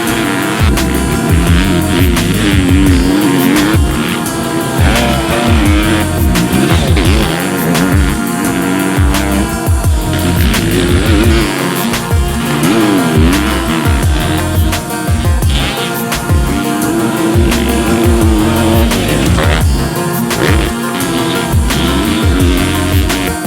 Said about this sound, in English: We're gonna get Dennis Stapleton, our chief test rider, out on the track, do some laps